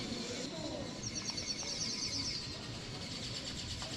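Faint, high bird chirps flutter briefly from pine trees over a low, steady background rumble, distant and quiet, in San Felix, Colombia.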